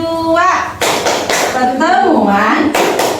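A group at a P2K2 family-capability meeting performs the P2K2 clap chant, with rhythmic hand claps under chanting voices.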